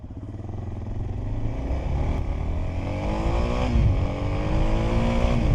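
A Suzuki XF650 motorcycle under way, its single-cylinder engine droning steadily close by, with rising revs and wind rush, rider's gear changes audible as the pitch climbs and shifts.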